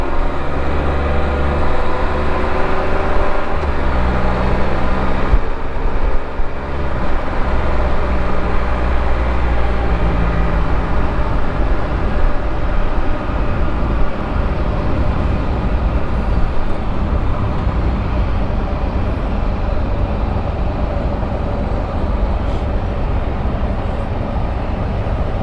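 A train crossing a railroad trestle in Dunkirk, heard as a loud, continuous rumbling roar that stays steady for the whole stretch, with no voices.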